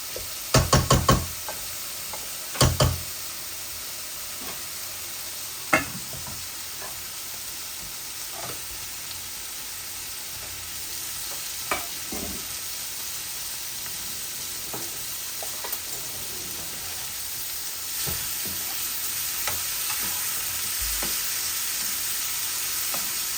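Boal fish frying in a pan in a little oil, a long steady sizzle dotted with scattered knocks and clinks, a burst of taps at the start and later isolated utensil hits, close and with no talk.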